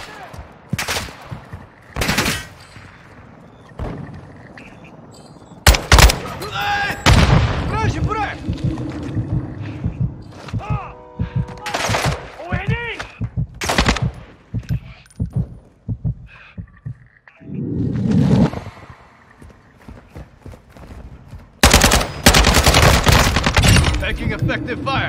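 Gunfire in the video game Call of Duty Modern Warfare 2, with bursts and sharp shots scattered through the scene, loud and close in places, mixed with game voices and other battle noise.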